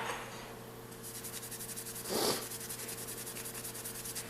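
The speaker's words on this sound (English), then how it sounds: "I'm just going to scuff them up with our red Scotch-Brite pad" A red Scotch-Brite pad scuffs small metal pinball coin door parts, giving a continuous soft abrasive rubbing hiss over a steady background hum, with one brief louder scrape partway through.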